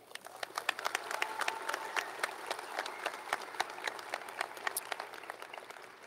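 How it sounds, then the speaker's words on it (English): A high school graduation audience applauds the staff, a steady wash of many hands clapping at some distance, fairly faint, with no speech over it. "Can I also get a round of applause for all of the staff?"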